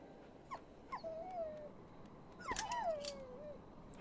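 A dog in the horror video game Maid of Sker whimpers and whines in several drawn-out, wavering cries over a low ambient rumble, with short yelps between them.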